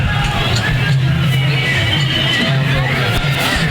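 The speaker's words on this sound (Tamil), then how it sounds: "எவ்வளவு கூட்டம்." A large crowd packs the grounds at a vadamaadu manjuvirattu bull-taming event in Nayakkarpatti, producing a dense, continuous hubbub of overlapping voices and babble, loud and close throughout.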